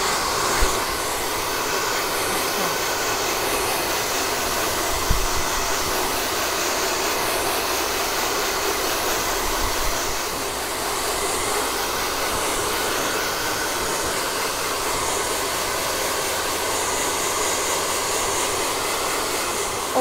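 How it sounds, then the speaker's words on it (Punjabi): A handheld hair dryer blows on hair in a salon-style setting, a loud steady whooshing motor roar that holds almost unchanged for the whole stretch, with a faint thump midway and no talking. "ਹੁਣ ਹੋਊਗਾ ਡਰਾਇਰ"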